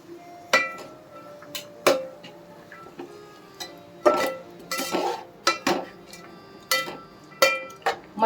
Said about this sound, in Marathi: आता आपण त्यात 1 वाटी हिरवा मटर घालणार आहोत